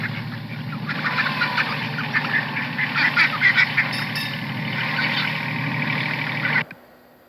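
Ducks quack and geese honk at a spot where they are fed duck food, heard as a busy flock calling in repeated overlapping bursts over steady background noise. The sound cuts off abruptly near the end.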